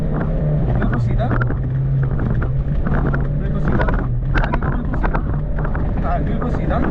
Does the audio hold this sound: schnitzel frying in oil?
no